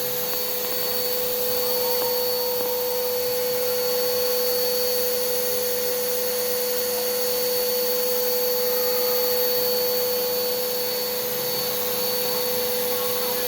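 A loud, steady vacuum-driven whir from a cocoa winnower runs continuously with a constant tonal whine, like a shop vacuum pulling cocoa husks through a machine.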